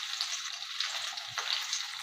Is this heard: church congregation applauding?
no